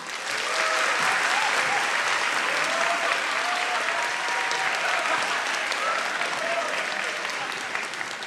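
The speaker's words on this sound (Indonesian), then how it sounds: "Beri tepuk tangan yang meriah untuk Raditya Dika." A stand-up comedy audience applauds Raditya Dika with a sustained, dense wash of clapping from a large crowd, steady and loud, with faint cheers mixed in.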